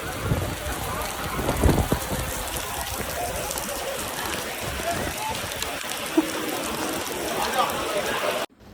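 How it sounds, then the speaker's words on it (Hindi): Rain beginning to fall around a train running in a red-alert storm, a steady hiss of drops on surfaces with low rumbles underneath, continuous and fairly close. "रेनकोट उतारते ही बारिश आ गई"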